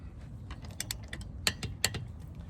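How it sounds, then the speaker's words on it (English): A torque wrench clicks while wheel lug nuts are tightened during a brake replacement. Several sharp, close clicks are spread irregularly over a low background hum, with two louder snaps near the end. "So I'm gonna go ahead and torque this down until I hear that click"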